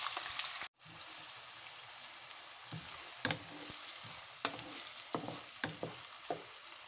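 Onions and green chillies fry in hot oil with a quiet, constant sizzle. A spatula lands scattered light scrapes and taps against the pan after a brief cut in the sound near the start.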